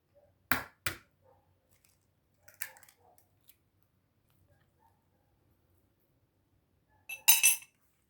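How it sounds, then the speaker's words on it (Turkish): Eggs cracked one after another into a bowl for içli köfte dough, giving a few sharp, close cracks and clinks with quiet gaps between them and a final busier burst of shell and bowl sounds. "Evet 4 yumurta kırdık ve karıştırıyoruz."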